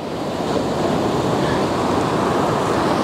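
Ocean waves break and wash up on a New Zealand beach, a steady close-up rush of surf blended with wind against the microphone.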